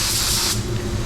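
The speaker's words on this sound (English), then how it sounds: "We're gonna spray at 31 PSI." A paint spray gun set to 31 PSI sprays matte finish in a loud, steady hiss that cuts off about halfway through, leaving a low background rumble.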